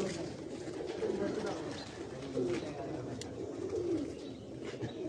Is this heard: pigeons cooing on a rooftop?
yes